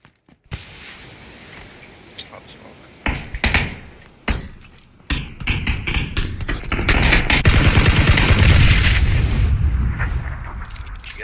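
Gunfire in a Saving Private Ryan war video game, with scattered loud shots and booms early on building into a sustained heavy burst of firing and explosions near the end.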